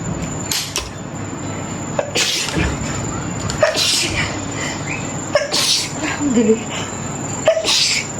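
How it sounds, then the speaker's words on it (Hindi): Sneezes burst out repeatedly, about five or six of them spaced every second or two, in a room cooled by full air conditioning, with a steady high-pitched whine from the AC unit running underneath. "तो ऊपर फुल एसी लगा हुआ है, तो एकदम से छींकें आना स्टार्ट होगी।"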